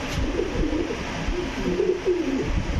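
A male Gola pigeon coos in a low, repeated rolling call, close and clear over faint background noise.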